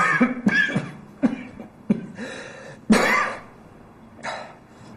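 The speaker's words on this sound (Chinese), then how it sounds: "这两天有点咳嗽。" A person coughs in a series of short, harsh bursts with some throat clearing, the loudest burst near the middle, heard close and alone without speech, in an indoor drama scene.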